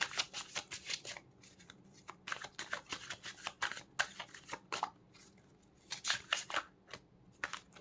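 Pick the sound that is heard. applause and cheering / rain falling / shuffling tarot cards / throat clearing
shuffling tarot cards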